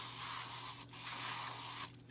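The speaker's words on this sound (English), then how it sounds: "I gotta get some spray." A handheld spray can gives a long, loud, continuous hiss, cuts off briefly, then resumes before fading near the end.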